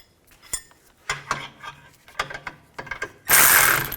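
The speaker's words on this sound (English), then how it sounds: "Put the nut on here." A ratchet tightens a nut on the rear spring assembly of a 2011–2014 Chrysler 200, giving bursts of close, sharp clicking strokes with brief gaps, then ending in a loud rush of harsh noise.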